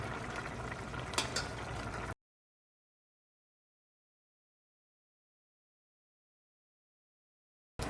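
Dudhi halwa sugar mixture boiling and reducing in a pan, a dense steady bubbling and simmering close by for about two seconds before the sound cuts to silence.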